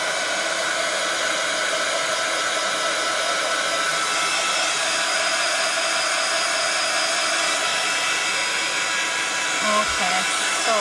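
A heat tool blows continuously close by while drying a painted journal page, a steady loud whooshing roar with a faint high whine that barely changes, with a small knock near the end.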